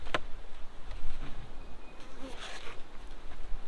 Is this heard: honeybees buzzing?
yes